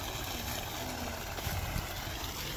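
Water gushing under pressure from a GK Energy 3 HP solar pump at a well, a dense, continuous broadband rush that holds steady and loud throughout, close by with no voices.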